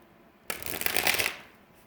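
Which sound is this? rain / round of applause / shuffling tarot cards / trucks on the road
shuffling tarot cards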